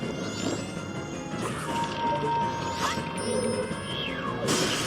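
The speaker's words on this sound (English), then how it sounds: "I just love that animation, that huge shatter" A boss in Majora's Mask slams down and shatters, a loud crash followed by scattered breaking and mechanical clatter, with a final burst of smashing at the end.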